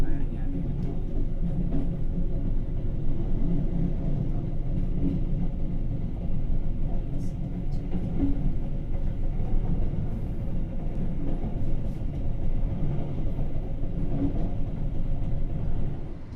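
Argo Bromo express train on the Jakarta–Surabaya line speeding through Ngrombo station, with a steady, loud rolling rumble and rail noise that continues unbroken the whole time.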